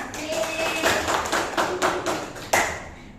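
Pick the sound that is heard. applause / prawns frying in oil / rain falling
applause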